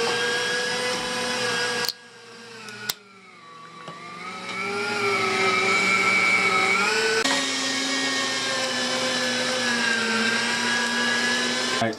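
An electric meat grinder processes meat for kielbasa, its motor giving a loud, continuous whine that briefly cuts out, then strains and shifts pitch under load before holding steady, with no talking.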